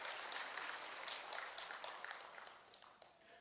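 A church congregation at a dawn prayer service claps together, a dense, fairly distant wash of applause that slowly thins and fades toward the end.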